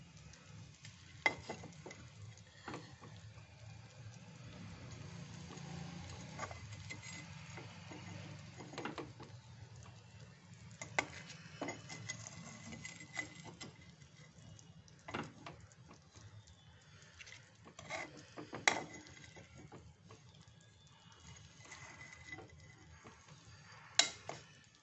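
Semolina fries in ghee in a pan with a steady soft sizzle while a spoon stirs and scrapes, adding intermittent sharp clicks and knocks throughout.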